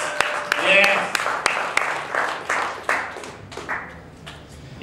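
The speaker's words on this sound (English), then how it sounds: "you guys are really good with the applause" Audience applause for a comedian at a stand-up show: scattered sharp claps ring out through the room, mixed with someone talking over them.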